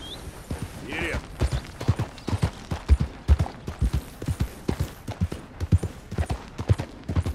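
Horse hooves clip-clop in a steady riding rhythm in Red Dead Redemption 2, close and moderately loud, with a brief whinny near the start and game sounds around it.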